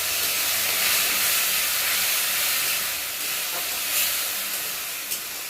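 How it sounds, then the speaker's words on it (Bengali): Meat masala, chilli powder and turmeric hit fried onions in a hot pan, giving a steady, close, fairly loud sizzling hiss that continues alone for several seconds. "পেঁয়াজটা ভাজা হয়ে গেছে, এবার আমি মশলাটা দিয়ে দেবো"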